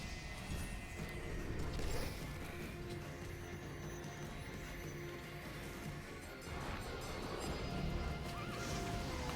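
A horse whinnies in the Heroes of Might & Magic 5 strategy game, a faint, busy in-game soundscape with hoof clatter and a mild crash.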